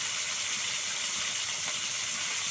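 Fish pieces rubbed with salt and turmeric fry in a pan, producing a loud, continuous sizzling hiss that holds steady from start to finish.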